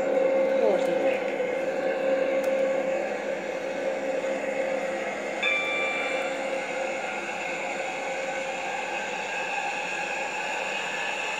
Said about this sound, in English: this is how loud the engine is